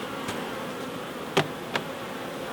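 Honey bees buzz softly and steadily around an open hive during a mite treatment inspection, a faint continuous drone broken by a couple of brief louder clicks or knocks.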